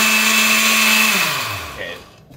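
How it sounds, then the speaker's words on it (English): A blender whirs loudly close by while mixing protein donut batter, a steady high motor whine that then winds down in pitch and fades out. "Now all the ingredients are there and we can actually blend it."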